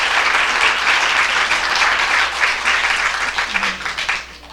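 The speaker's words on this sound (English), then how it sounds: "One more round of applause for all of our incredible local media." A room full of people at a peace awards ceremony gives a round of applause for local media, dense steady clapping that tapers off toward the end.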